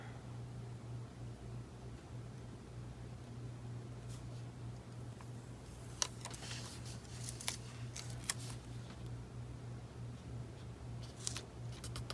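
Scissors cutting a paper sticker for a journal cover page, a few faint, sharp snips scattered over a quiet background with a steady low hum, close but soft, no talking.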